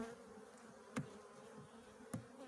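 Honey bees buzzing at a beehive make a faint, steady hum close by, broken by two brief knocks about a second apart.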